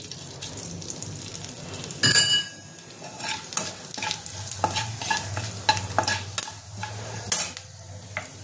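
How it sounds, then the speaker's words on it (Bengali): Two bay leaves and whole cumin seeds sizzle in hot oil in a wok, a steady close frying hiss with a sharp burst as the spices hit and occasional stirring clinks. "দেবো দুটো তেজপাতা আর গোটা জিরে।"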